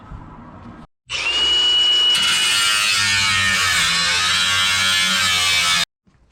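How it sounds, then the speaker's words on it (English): A cutoff wheel slices away excess metal from a Honda CRX car body, starting after a brief pause with a loud, sustained high-pitched grinding whine that holds steady for about five seconds, then cuts off abruptly. "I cut it with a cutoff wheel"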